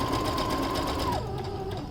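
A sewing machine runs a row of straight stitching in a steady, close whir, then its pitch drops slightly as it slows near the end of the seam.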